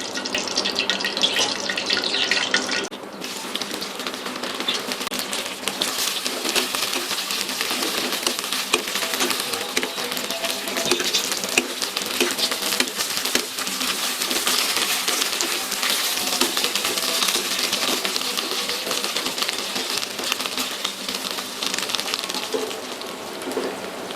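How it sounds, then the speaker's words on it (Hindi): Okra deep-frying in hot oil for a bhindi gosht dish, a steady dense sizzle and crackle that runs loud and continuous throughout with no talking. "अब हम इसमें भिंडी को फ्राई कर लेंगे।"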